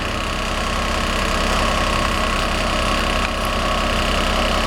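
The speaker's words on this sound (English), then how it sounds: "It's a modern garbage truck we got a few years ago." A modern garbage truck idles in a residential street, its engine giving a steady, loud low rumble with a constant vibrating hum and no change in pace.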